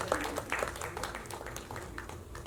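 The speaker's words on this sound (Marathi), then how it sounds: "सरांसाठी एकदा जोरदार टाळ्या झाल्या पाहिजे." An audience applauds at the Jilabi film trailer launch event, a dense scattered patter of many hands clapping, lively at first then easing slightly, moderately loud in a hall.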